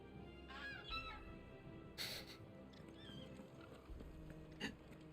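A white chocobo in Final Fantasy XVI lets out several short, squawking, gull-like calls that rise and fall, fairly faint, spaced across a few seconds against quiet game ambience.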